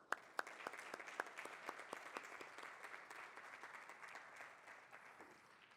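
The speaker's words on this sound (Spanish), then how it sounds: "Así que un fuerte aplauso." An audience at an electoral justice conference applauds, a dense burst of clapping that starts with a few sharp claps and settles into steady applause, heard at a moderate distance.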